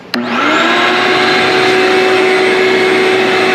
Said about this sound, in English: I like to run like a big rigid shop vac